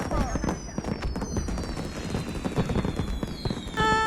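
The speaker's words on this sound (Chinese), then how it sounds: "大家一起看烟花吧" Fireworks burst in dense, rapid succession at a winter outdoor event, loud crackling pops and bangs overlapping continuously with whistling streaks rising above them.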